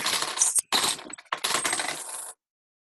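UK coins jingle and clink together in a few close, bright metallic bursts, then stop abruptly.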